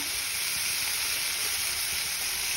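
Oil sizzling steadily in a pan while pumpkin bassaru ingredients are partly fried, a constant close hiss with no talk and no change across the whole stretch.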